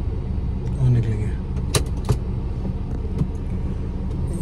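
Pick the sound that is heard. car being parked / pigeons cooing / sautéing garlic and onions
car being parked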